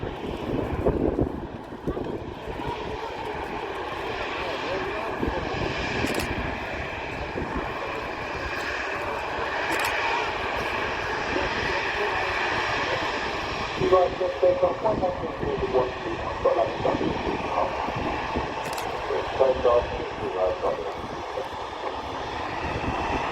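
An Emirates jet airliner's engines hum and whine steadily on the runway at Manchester Airport, a sustained moderate roar with gusts of wind on the microphone and a voice talking over it at times.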